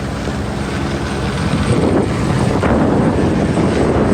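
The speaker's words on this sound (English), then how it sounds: "The helicopter is flying for news" A news helicopter drones overhead above a major crash scene in Austin, Texas, with a steady, loud rotor rumble and some wind buffeting, growing slightly stronger toward the end.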